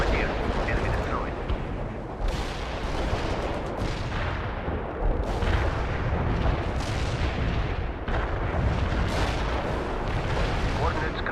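Heavy Soviet artillery barrage in the wartime strategy game World in Conflict, a dense roar of booming impacts and rumbling explosions repeating every few seconds, with radio voices speaking amid the fire.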